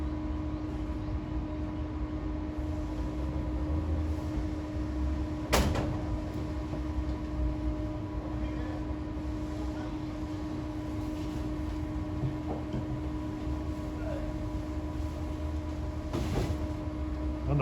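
A SEPTA push-pull regional rail train led by an ACS64 electric locomotive runs westbound from Malvern past Bryn Mawr, giving a steady, fairly loud rumble and hum throughout with a couple of sharp knocks.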